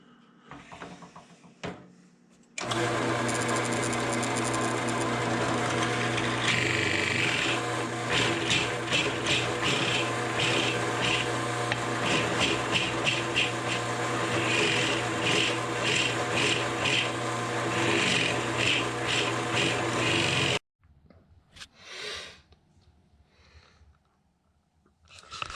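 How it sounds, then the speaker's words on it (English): A drill press with a 1¼ inch bit boring into wooden cocktail smoker bottoms, giving a loud, sustained grinding whir for about eighteen seconds with pulsing cutting bursts, framed by quieter workshop handling noises before and after. "get the drill press set up with our 1¼ inch bit, get the stop set, and then we'll go ahead and start drilling all the bottoms"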